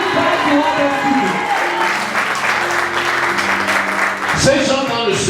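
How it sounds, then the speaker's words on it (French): Church audience clapping along, broad applause mixed with sustained keyboard or organ notes and a voice speaking over it. "tape une main, commence à applaudir."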